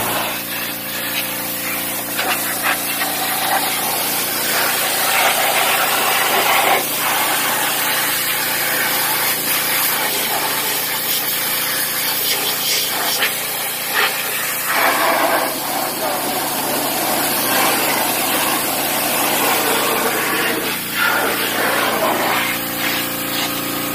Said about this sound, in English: We're going to pressure wash the engine bay,